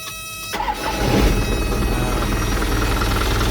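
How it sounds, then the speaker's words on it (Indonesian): A 2006 Isuzu Elf NKR71 truck engine cranks briefly, then catches and settles into a steady, fairly loud diesel idle that runs on alone. "Tapi coba saya nyalakan terlebih dahulu untuk mesinnya."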